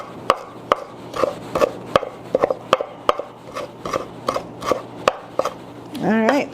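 Knife chopping fresh cilantro on a cutting board, a quick series of sharp, close chops in an uneven rhythm, followed by a brief scraping sound at the end.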